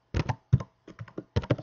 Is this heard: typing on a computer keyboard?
yes